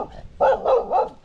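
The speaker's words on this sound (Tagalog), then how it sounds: "May aso pala." A dog barks a few times in quick succession, close and fairly loud, with short gruff bursts and no talking over it.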